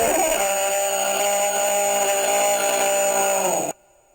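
A loud, steady buzzing motor drones without pause, like a running chainsaw, then cuts off abruptly near the end, leaving near silence.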